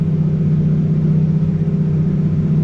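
New Holland T7.260 tractor with a remapped engine running steadily in the cab, a loud constant low drone with a firm harmonic hum and no change in pitch.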